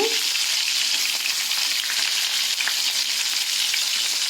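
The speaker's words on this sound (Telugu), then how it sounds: "ఆయిల్ వేడి అయ్యాక మనం కట్ చేసుకున్న ఉల్లిపాయ ముక్కలు వేసుకుందాము. కరివేపాకు, ఉల్లిపాయలు వేసుకుంటున్నాను." Chopped onions and curry leaves fry in hot oil, giving a loud, steady, close sizzle that runs unbroken from start to end.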